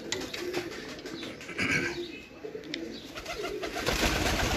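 Soft pigeon coos repeat over a steady outdoor background hum, with faint chirps scattered through and no talking, during a pigeon flying competition in Punjab.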